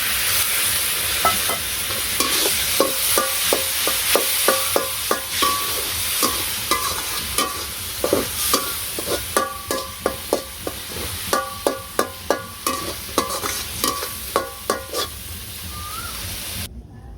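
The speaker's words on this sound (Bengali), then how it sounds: "মশলাটা ভালো করে কষানো, একটু ফুটিয়ে রাখা জল দিয়ে দিলাম" A spice paste is sautéed in a pan with hot water added, while a spoon scrapes and clinks against the pan in steady repeated strokes over a constant sizzle. The strokes grow sharper toward the end, and nobody speaks.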